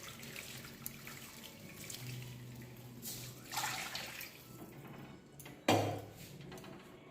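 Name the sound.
chowmein noodles rinsed under cold tap water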